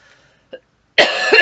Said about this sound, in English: I've still got this horrible cough